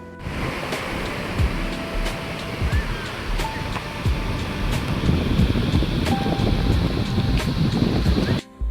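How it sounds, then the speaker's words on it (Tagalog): Ocean waves at the sea, a steady roaring wash of surf with rising and falling swells and gusty wind buffeting the microphone. "Lalo na yung tunog ng alon."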